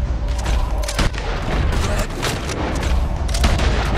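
Rapid gunfire from a shootout in the Western video game Red Dead Redemption 2, loud booming shots cracking repeatedly in quick bursts over a rumbling background.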